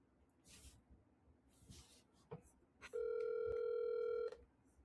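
Phone calling an AI receptionist line for a roofing business: a few faint clicks and taps, then one steady ringback tone lasting over a second, clear and close.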